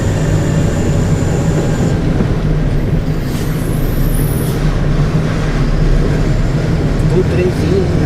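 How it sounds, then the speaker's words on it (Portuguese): A train rumbles past close to a highway in Brazil, heard as a loud continuous low roar from inside a Ford Cargo truck cab, with voices in the cab. "Um trenzinho."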